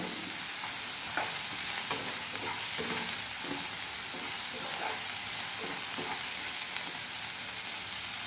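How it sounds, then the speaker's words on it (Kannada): Ingredients for schezwan fried rice sizzle in a hot pan, with steady frying hiss and intermittent scraping stirs of a spatula, close and continuous without talk. "ಫ್ರೈ ಮಾಡ್ಕೊಳ್ಳಿ ಸ್ವಲ್ಪ. ಸ್ವಲ್ಪ ಕ್ರಿಸ್ಪಿ ಆಗಲಿ ಇದು."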